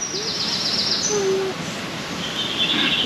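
Birds in an enclosure at an ocean park in Manila give a few soft hoots and chirps, faint and intermittent over steady ambient noise of a busy indoor space.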